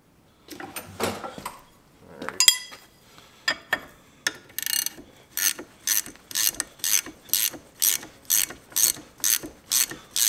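A ratchet wrench loosening a nut on the steering tie rod of a Case David Brown 1394 tractor, with a few scattered clanks and then a steady series of quick, close clicking strokes at an even rhythm.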